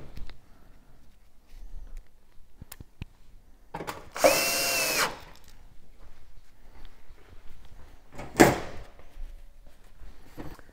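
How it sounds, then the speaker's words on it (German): A power drill tightens screws on an oven's convection fan in two short bursts, the first lasting about a second and the second brief, among quiet handling clicks and knocks. "Fädeln uns die Schrauben an und machen alle wieder fest."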